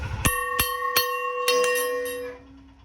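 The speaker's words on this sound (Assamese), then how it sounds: "এনেকৈ মাৰে ঘণ্টাটো" A small hand bell rung during Saraswati Puja rings out five or six bright, close strikes at an uneven pace, each chime ringing on and fading slowly after the last stroke.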